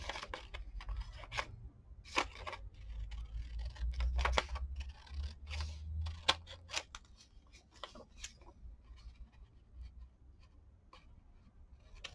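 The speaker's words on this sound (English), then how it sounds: "So then I will cut this out." Scissors snip a paper bead strip at close range, producing a quiet, irregular series of crisp cuts and small paper rustles against a soft background hum.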